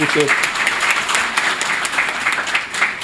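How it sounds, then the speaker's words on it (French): University audience at a tribute ceremony applauding a professor, a steady wash of clapping from many hands with voices and cheers mixed in throughout. "Je crois qu'il mérite vos applaudissements"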